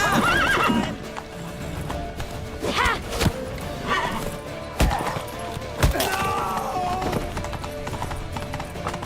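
A horse whinnies several times over a rapid clip-clop of galloping hooves in a video game, with occasional sharp thuds and crashes in a busy, loud mix.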